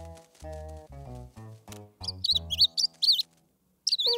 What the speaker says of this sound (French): Je dois m'occuper du bébé oiseau.